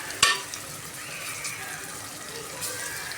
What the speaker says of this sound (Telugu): ఉల్లిగడ్డలు మంచిగా బ్రౌన్ కలర్ వచ్చేంత వరకు బాగా వేసుకోవాలండి